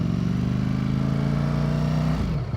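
Ducati Streetfighter V4S motorcycle engine with 208 hp, ridden on the street in street mode, holding a loud, steady close-up drone that drops in pitch near the end as the revs fall.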